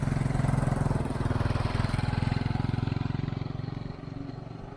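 A small engine drones steadily nearby with a rapid, even putter, holding a constant pitch and level before easing slightly toward the end, with no voices.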